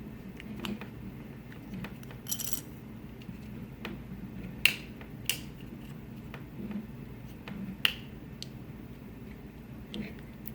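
Plastic tabs on an in-line lamp cord switch snap open under prying, giving several sharp isolated clicks spaced a second or two apart against quiet handling noise, close up.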